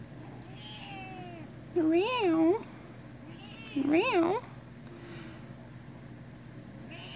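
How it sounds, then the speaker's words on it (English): Two drawn-out meows a couple of seconds apart, loud and close, over a steady low hum with quiet talk around them. "Meow."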